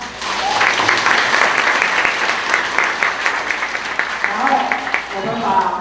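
Loud, sustained applause from an audience at a corporate partnership celebration, dense clapping filling the whole stretch without a break, with a voice briefly audible within it.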